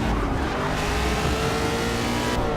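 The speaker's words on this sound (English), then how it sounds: "Drifting with traction control on" A car drifting with traction control on in Forza 6: a steady, loud engine drone with tire noise holds continuously, without pauses, for a couple of seconds.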